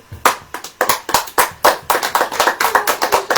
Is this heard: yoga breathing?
no